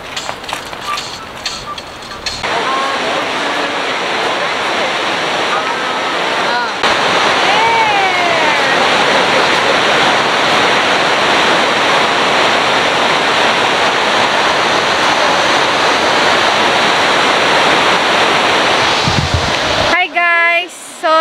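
Loud, roaring rush of Cameron Falls in Waterton, Alberta, Canada, a dense steady wall of falling water close by, with voices and handling noise at the start and end.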